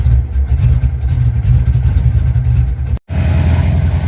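A car engine fitted with an Edelbrock 1405 carburetor fires up and settles into a steady, loud, slightly high idle on the fast idle cam, with a brief cut before the running resumes.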